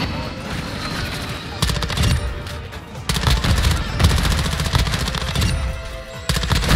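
Submachine gun fire in a Call of Duty match on the Shipment map, in several loud, rapid full-auto bursts separated by brief pauses, over a dense backdrop of game noise.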